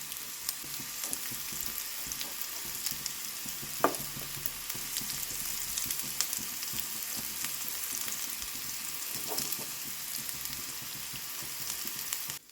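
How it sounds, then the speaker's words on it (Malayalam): Bitter gourd pieces sizzle and fry steadily in a pan over a medium flame, a continuous crackling hiss with a few louder pops of oil, no voices over it. "ഈ സൈഡ് കൂടെ ചെറുതായിട്ടൊന്ന് ഫ്രൈ ആവണം."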